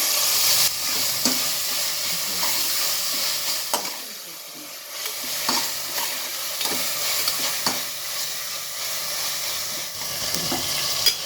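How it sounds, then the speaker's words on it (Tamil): Tomatoes and onions sautéing in a pan on a low flame for a Chettinad mushroom biryani, with a continuous close sizzle and hiss broken by occasional stirring scrapes and clicks. "இது கொஞ்சம் சிம்மில் வச்சு வதக்கணும்."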